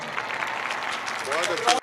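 An audience at a mushaira applauds to welcome the poet Shakeel Azmi, a steady moderate clatter of clapping with voices talking over it. Near the end it swells briefly, then cuts off.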